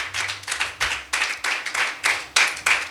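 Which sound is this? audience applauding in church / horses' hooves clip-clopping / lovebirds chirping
audience applauding in church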